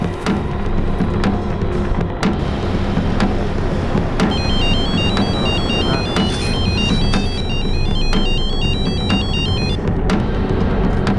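A mobile phone rings with a repeating electronic ringtone that starts partway through and chimes for several seconds over a steady background hum.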